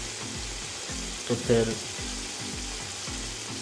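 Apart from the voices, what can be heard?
water being poured into a pan of cooking chicken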